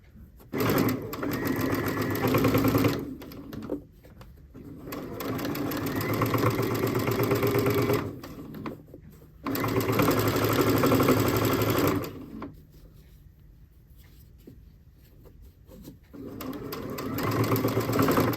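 A sewing machine chain-stitches quilt sashing strips in long steady runs of a few seconds each, with short pauses between them, close and clear with no voices.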